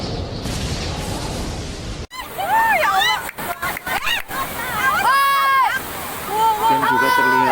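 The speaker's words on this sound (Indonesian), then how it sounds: "sedang turun hujan dan banjir" Flood water and heavy rain wash along the Laren–Buaran road in Bumiayu, a steady broadband rush with sloshing, while voices talk over it and tonal calls or horns rise in the second half.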